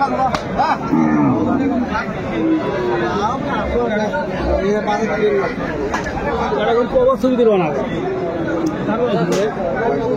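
Cattle, cows with calves, lowing now and then amid a busy crowd at the Aftabganj livestock market in Bangladesh, with many people talking and chattering nearby.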